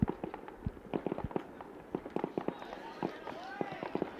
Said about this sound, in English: It sounds like the finale of the fireworks because it's absolutely going ridiculously gangbusters behind me.